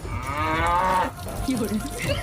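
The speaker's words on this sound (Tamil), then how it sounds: "ஏய் மாடு மவனே" A cow moos once in a long, low, drawn-out call, close and loud over steady outdoor background noise.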